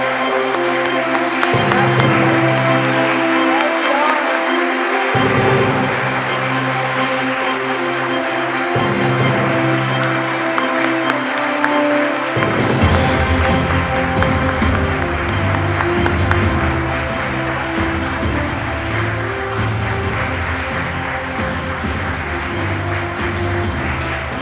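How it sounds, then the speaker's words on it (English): Sustained audience applause at a National Heritage Week awards ceremony, broad and steady for over twenty seconds, with music or a low drone underneath in the opening half. "please keep your applause going for Bridget"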